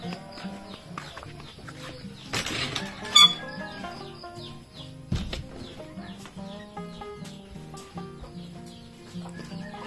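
Chickens and little chicks on a farmyard cluck and peep in short, scattered calls at close to middle distance, over a murmur of background activity.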